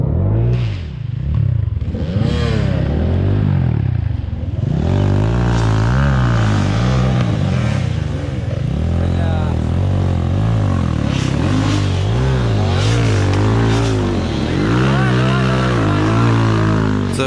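Hard enduro motorcycle at a competition revving hard on a long, steep climb, its engine loud and close throughout, surging and dropping in rapid bursts.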